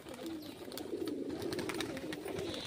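Pigeon kept for sale cooing nearby, a soft low repeated coo rolling on continuously, with faint rustling and background noise.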